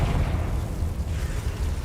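A Confringo blasting spell goes off in Hogwarts Legacy, giving a steady, heavy low rumble that carries through the whole moment without a sharp attack.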